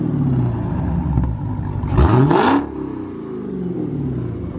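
A tuned Dodge Challenger Hellcat engine rumbles close by, then rises into one sharp, loud rev that climbs in pitch and drops back to a steady idle.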